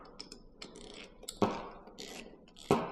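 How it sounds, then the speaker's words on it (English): A Phillips screwdriver tightens a fitting while rigging an Old Town 120 ePDL Pro kayak, giving a few close mechanical clicks and ratcheting scrapes, with two sharper knocks standing out. "now we can take the Phillips and start trying to tighten this fella down"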